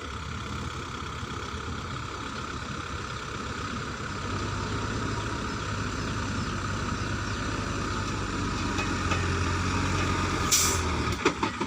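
A Hino truck on 825 tyres at a pond-digging site runs its diesel engine steadily and loudly at close range, a low continuous rumble that builds slightly before a short hiss near the end.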